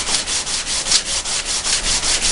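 Sandpaper rubs along a knife edge in quick, even back-and-forth strokes, about a dozen rasping passes, close and loud with no talk.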